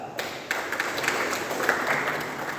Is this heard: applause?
yes